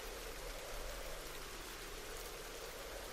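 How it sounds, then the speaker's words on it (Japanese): A passing rain shower falls steadily at night, a dense, even hiss of rain with no pauses or other sounds. "物悲しい闇の夜に通り雨がさーっと"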